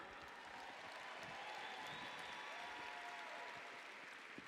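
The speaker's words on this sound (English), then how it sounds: "we should applaud her" Applause from an audience at a conference session, faint and distant, a continuous soft patter of many hands with a murmur of voices beneath.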